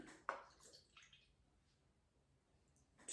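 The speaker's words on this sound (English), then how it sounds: "first I'm going to add 4 cups of water" Water poured into a pot of brown stew, faint short splashes and gurgles near the start, a quieter stretch in the middle, then another brief pour at the end.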